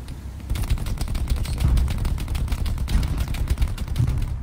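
Rapid machine gun fire in the World War II shooter Hell Let Loose, a loud sustained stream of shots hammering in quick bursts.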